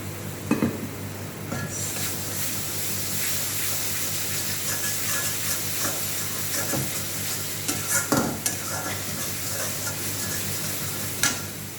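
Two bay leaves frying in a small amount of oil for a Bengali egg curry give a close, continuous sizzle and hiss, broken by a few louder clatters of a spatula stirring in the pan.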